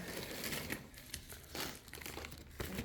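Plastic packaging around a set of stickers crinkling and rustling as it is handled and opened, close and continuous with several sharper crackles.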